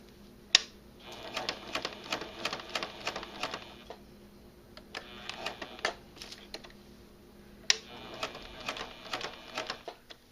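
Sewing machine stitching around a quilted hotpad, faint and close, running in short bursts of rapid ticking separated by quiet pauses where it stops to turn corners; no talking.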